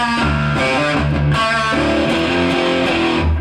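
An electric guitar plays a section of a song, loud and distorted with sustained, chugging chords that shift in pitch partway through, with no voice over it.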